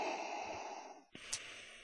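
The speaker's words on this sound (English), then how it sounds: "has like the Darth Vader breathing in the background" A Darth Vader-style breathing effect from the MorphVOX Pro voice changer plays as a faint, hissing mechanical inhale and then an exhale, one slow breath with no talking.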